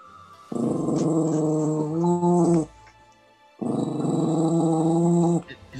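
A dog growls in two long, loud, close rumbling bursts separated by a brief pause, heard during a gardening video call, with no talk over it.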